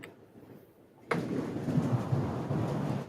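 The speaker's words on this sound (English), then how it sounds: "And the thunder rolls." Thunder from a storm: quiet at first, then a sudden loud onset into a sustained low rumble that rolls on for a couple of seconds, with no one speaking.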